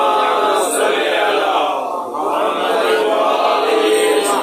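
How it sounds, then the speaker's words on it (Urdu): A packed gathering at a religious majlis in Karachi chants slogans and salawat in unison, a loud continuous roar of massed voices with a brief dip midway before swelling again. "نعرے دیگر نعرے سلوات"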